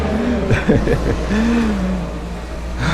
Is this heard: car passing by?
yes